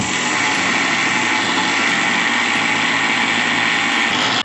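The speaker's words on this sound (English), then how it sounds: "we got the mixer and put the lid and grind the rice" A mixer grinder with its lid on grinds rice in a steady, loud, dense motor whir with a rattling grind, running continuously and close with no talk.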